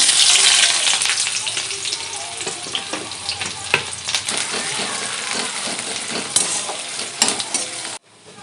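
Chopped onion and two cardamom pods hit hot mustard oil with a loud burst of sizzling that settles into a steady crackle, broken by spatula knocks and stirring, before cutting off abruptly near the end.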